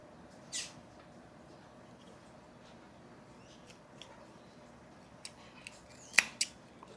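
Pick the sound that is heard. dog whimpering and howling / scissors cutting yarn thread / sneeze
scissors cutting yarn thread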